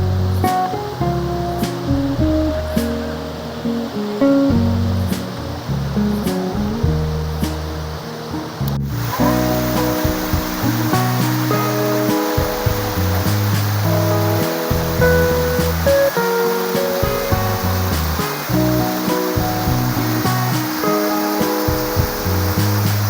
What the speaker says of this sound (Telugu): ఇదేనండి అనంతగిరి వాటర్ ఫాల్స్, చూసారా?